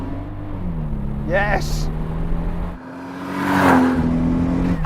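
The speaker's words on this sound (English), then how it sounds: "throw the throttle, build up the revs, and off we go. Bit of spin, we're off." A Toyota Supra (A80) sports car with over 1000 horsepower revs up and launches hard with a bit of wheelspin, engine note climbing through the gears, with a voice shouting excitedly.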